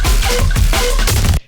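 Neuro drum and bass growl from an MPC One: a nasty, wobbling bass growl over pounding kick hits, loud and dense, cutting off abruptly at the end.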